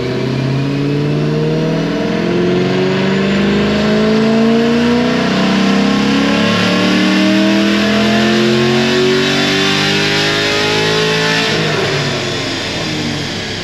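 A Chevy SS with upgraded heads and cam and a manual gearbox revs hard on a dyno, engine pitch climbing steadily through a long loud pull before easing off at the end.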